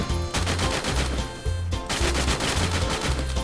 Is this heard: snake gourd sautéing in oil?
no